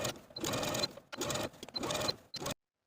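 A home sewing machine understitches binding to a seam allowance in three fast whirring runs, each about half a second long, separated by short pauses and heard close up without speech.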